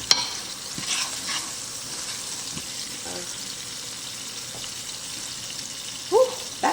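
Peppers and onions sautéing in a pan, a soft steady sizzle with occasional light stirring scrapes and a brief clink near the end, fairly faint and without talk.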